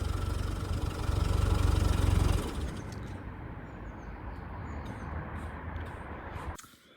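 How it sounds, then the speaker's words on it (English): A Jaguar car engine idles with a low, steady rumble, then winds down and falls quiet, leaving faint birdsong in the background. "I'm going to stop the engine now"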